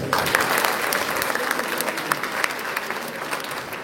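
At a Miss Science 2021 competition in Mali, the audience gives a round of applause, a dense crackle of many hands clapping steadily, slightly distant, with faint voices mixed in.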